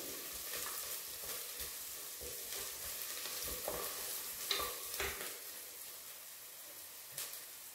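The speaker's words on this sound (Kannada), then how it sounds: "ಹಸಿಮೆಣಸಿನಕಾಯಿ ಚೆನ್ನಾಗಿ ಫ್ರೈ ಆಗಬೇಕು" Green chillies fry in oil in a pan while millet dal khichdi is being made, a soft continuous sizzle broken by occasional scraping and clicking from stirring.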